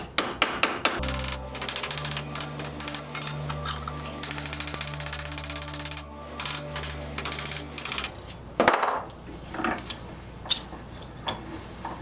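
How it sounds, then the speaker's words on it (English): Ball peen hammer setting the corners of formed soft jaws for a bench vise, rapid sharp metallic taps in fast bursts at close range, with a steady machine hum underneath for several seconds and scattered louder blows after it stops. "now I'm going to set the corners with this ball peen"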